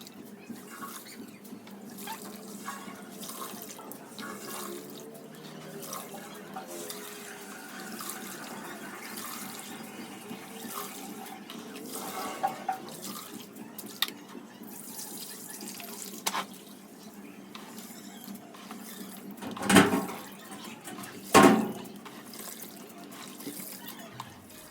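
Wheat grains washed in water in a home kitchen: a steady low sloshing and trickling runs throughout with occasional drips, and two sharper splashy bursts stand out near the end, with no talking.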